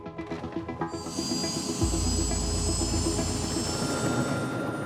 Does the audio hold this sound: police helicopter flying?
yes